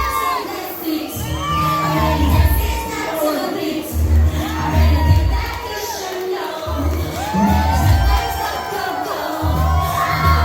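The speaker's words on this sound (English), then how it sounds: "I need you to all rave and scream and dance and shout like you've never screamed and danced and shouted before." A live audience screams, cheers and whoops loudly and continuously, a dense roar of many young voices close by.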